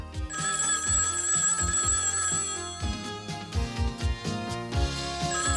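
A telephone rings with a bright, repeating electronic melody over a steady tone, continuous and fairly loud throughout.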